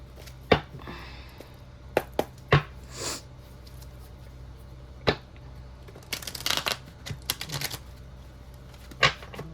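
A deck of tarot cards is handled and shuffled, with sparse sharp taps and then a dense burst of riffling flutter before one more slap, all near and without talking.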